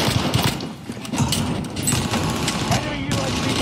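Gunfire in Call of Duty on Rebirth Island: repeated sharp shots and bursts, some rapid and clustered, others spaced, loud and close, mixed with game noise and movement sounds.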